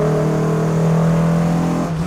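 A Peugeot 309 GTi engine revs hard while driving, a loud, steady close-up drone with strong harmonics that holds high throughout, with no talking.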